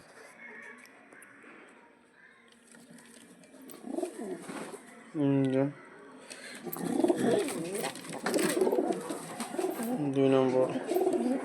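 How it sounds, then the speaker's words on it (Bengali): Pigeons let loose inside a loft give soft cooing and throaty calls, with wing flutters and shuffling close by, while someone talks briefly over them. "এখানেই লফটের মধ্যে ছেড়ে দেখাচ্ছি পায়রাকে।"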